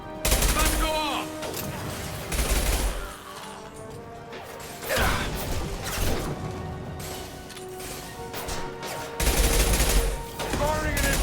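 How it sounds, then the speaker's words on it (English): Repeated high impact shots in the Mass Effect 2 shooter: heavy booming blasts and crashes at irregular intervals amid continuous combat noise, with voices talking over the action. "Firing a high impact shot."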